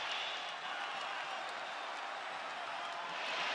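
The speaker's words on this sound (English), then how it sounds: "A standing ovation from the capacity crowd in Perth" A capacity crowd in Perth, Western Australia, gives a standing ovation after a UFC 294 title fight: a steady, dense wash of clapping and cheering with no gaps, swelling slightly at the end.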